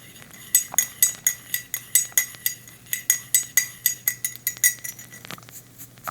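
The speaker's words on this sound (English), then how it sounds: "I'm referring to it by stirring this tea." A spoon stirs tea in a cup, ringing out in a quick, steady series of bright metallic clinks against the ceramic, close and crisp over a faint low hum, with no talking.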